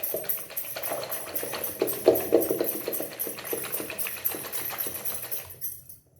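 Mustard seeds are churned into buttermilk with a wooden churner for amla pickle, giving a steady, rapid run of soft wet knocks and swishes, moderately close and with no talk.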